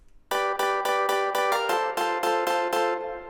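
Bright, stabbing 90s rave piano chord sample repeats about ten times in a quick rhythmic pattern, loud and punchy, each hit cutting off sharply.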